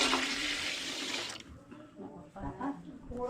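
Water poured into a cooking pot with coconut mix, a loud rushing pour for over a second, then quieter sloshing and stirring splashes close by.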